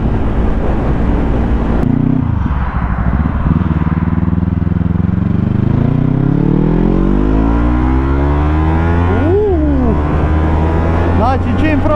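A 2022 Yamaha YZF-R3 World GP 60th Anniversary Edition motorcycle engine, loud and close, rising and falling through several revs with a sustained high-pitched drone, one sharp blip near the end.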